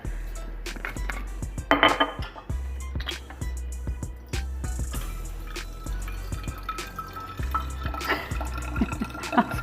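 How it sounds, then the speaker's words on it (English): Kombucha from a continuous brew flowing slowly out of a jar dispenser into bottles, a steady close trickle with scattered drips and small glassy knocks throughout. "The flow of my dispenser was kind of slow."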